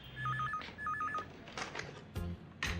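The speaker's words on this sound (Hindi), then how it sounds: "दिनेश गांधी का फोन है।" A telephone rings in two short warbling electronic bursts, close and clear, followed by handling clicks and thumps as it is picked up.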